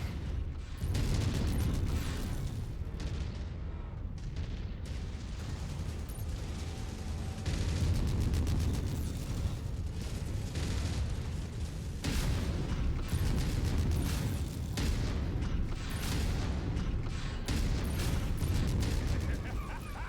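Heavy weapons fire and explosions in a mech combat video game: continuous rumbling booms, repeated blasts and mechanical clatter at high, sustained intensity, with voices talking over the din.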